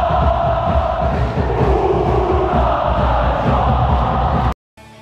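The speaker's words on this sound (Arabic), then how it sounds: "وهنايا في كيكونوا جماهير ديال المغرب التطواني فوندو نورتي، عندهم تعصب وحماس وشغف" Moghreb Tetouan football supporters in the stands, a loud dense crowd roaring and chanting together continuously, cutting off abruptly near the end.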